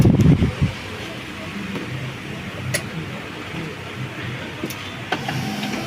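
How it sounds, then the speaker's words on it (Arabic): A Canon MF3010 laser printer powering up after an E001 error repair, giving a low mechanical whir and motor hum with light clicks and ticks, close by, with a voice speaking over parts of it. "بدأت الطبعة تقوم معايا اهي بفضل الله"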